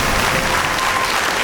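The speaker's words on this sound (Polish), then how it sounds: "Proszę o wielkie brawa dla Roberta i dziękuję za grę." Loud, dense studio-audience applause on a Polish quiz show after a contestant wins, a continuous roar of clapping with no break.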